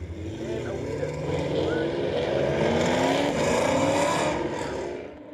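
Ford Racing Mustang Challenge race cars roar through the race start at Mosport International Raceway in Canada, diving into corner 1. The pack's dense, loud engine noise swells and then fades slightly, with commentary heard over it.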